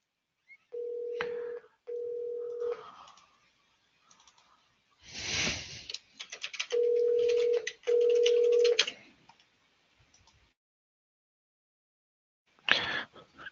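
A phone rings during a live CorelDRAW and sublimation webcast: four loud, steady electronic ring bursts in two pairs, separated by clicks, rustling and brief noise, with no talk.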